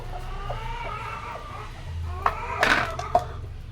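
Hens clucking nearby in a farmyard, soft repeated clucks punctuated by a few sharper louder calls toward the end, with a voice talking faintly in the background.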